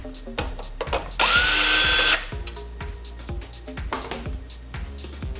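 A power screwdriver whirs in one loud, sustained burst lasting about a second while unscrewing a screw from a computer optical drive. Irregular clicks and small knocks of handling come before and after it.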